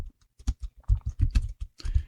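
Rapid, irregular clatter of keys on a computer keyboard, close up, with short pauses between bursts of typing.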